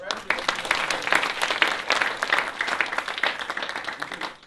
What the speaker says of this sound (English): you want to give another round of applause to them?